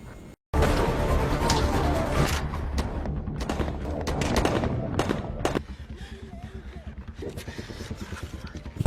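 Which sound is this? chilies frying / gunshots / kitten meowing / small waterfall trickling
gunshots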